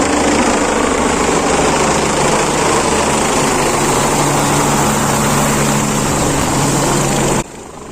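A helicopter near a helipad, heard as a loud, steady broadband engine and rotor roar that holds for about seven seconds and then drops off abruptly.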